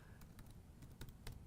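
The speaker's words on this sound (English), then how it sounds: "now he's typing a const variable at the beginning" Code being typed on a computer keyboard while programming in JavaScript and Node.js, with a quick irregular run of light key taps close by and no voices.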